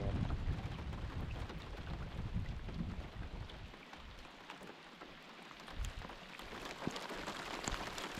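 Rain patters steadily on a lake around a canoe in the Adirondacks in autumn, a soft continuous hiss with low wind rumble and scattered drops close by.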